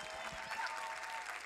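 Conference audience at a mentoring summit plenary gives a brief round of applause, a soft, even wash of clapping that sounds somewhat distant and lasts only a moment.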